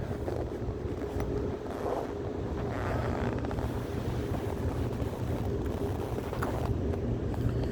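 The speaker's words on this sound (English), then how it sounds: "It's just a little windy." Wind buffets the microphone in a constant low rumble, gusting steadily with no other clear sounds.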